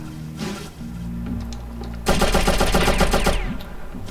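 Machine gun fire in the video game Oddworld: Abe's Oddysee, a loud rapid burst of rattling shots lasting over a second over a low droning game soundtrack.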